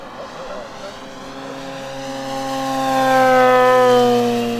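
An electric 1/5 scale P-51D Mustang RC model plane makes a fast pass, its whining motor and propeller tone rising in pitch and loudness as it approaches, heard at moderate distance.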